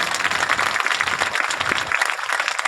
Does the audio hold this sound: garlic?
no